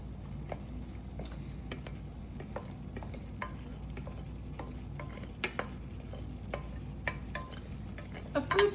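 Canned black beans, rinsed and strained, are stirred into a shrimp mixture in a pan: soft scraping and wet squishing strokes over a low sizzle, close and fairly quiet.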